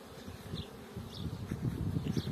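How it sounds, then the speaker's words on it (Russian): Honeybees buzz steadily around the hives of an apiary on a hot morning, a dense low hum swelling slightly louder toward the end, with no one talking. "Пчелки вот уже с 7 утра работают."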